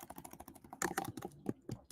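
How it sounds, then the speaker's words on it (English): Rapid, close typing on a computer keyboard: an uneven patter of light key clicks with a few heavier strikes, clear and alone with no talk. "I'm typing it out"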